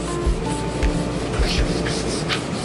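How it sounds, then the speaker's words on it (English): Sponge rubbed over a screen printing screen, a continuous close scratchy rubbing texture with a few soft low thumps as the strokes change direction. "rub your sponge over it"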